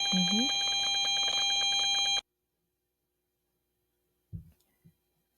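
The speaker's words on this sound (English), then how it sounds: "So as soon as she puts the pods next to the thing, starts beeping." A radiation detector beeping as earbud pods are placed beside it, giving a loud, steady electronic alarm tone for about two seconds that cuts off abruptly, followed by silence and a couple of soft knocks.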